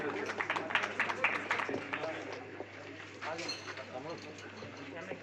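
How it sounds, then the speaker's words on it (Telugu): Applause at a cricket tournament prize ceremony in Vikarabad sounds as a burst of scattered clapping that thins out, heard under a voice on a loudspeaker and general outdoor chatter. "huge round of applause"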